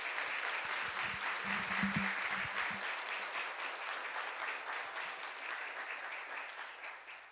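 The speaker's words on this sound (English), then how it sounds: "Let us give a big round of applause to our true parents." A congregation applauds at a Sunday church service, with a steady, dense wash of clapping from a large crowd that continues throughout and slowly tapers toward the end.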